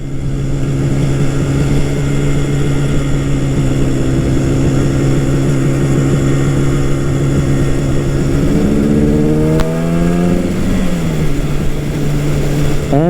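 A 1969 Yamaha R3 350 two-stroke motorcycle is ridden with its buzzy engine droning steadily and loudly up close, then rising through a couple of quick revving climbs before settling back.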